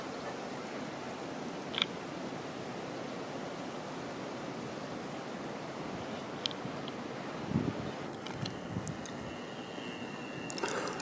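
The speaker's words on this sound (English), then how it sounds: "Wind's got up though." Steady wind roars across the microphone while cycling outdoors, a continuous broad rushing noise with a few faint clicks and knocks from the bike.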